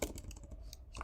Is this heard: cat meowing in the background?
no